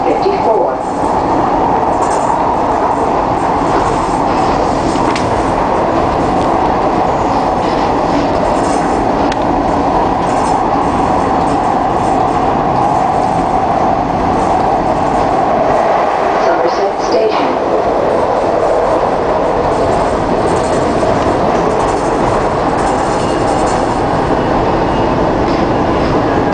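Riding a Market-Frankford Line elevated train northbound from 2nd Street in the evening: a loud, continuous rumble of wheels and car noise fills the whole stretch, with steady rail clatter and little variation.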